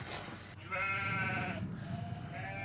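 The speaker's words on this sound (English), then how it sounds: "Herds of goats come and perform a ritual suicide." A herd of goats bleating in a valley, wavering drawn-out bleats, one long call followed by another fainter one, over a low rumbling background.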